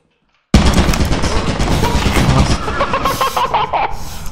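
Turret gunfire in the video game Lethal Company, a loud rapid burst of machine-gun shots starting suddenly after a moment of silence and rattling on continuously before tailing off slightly.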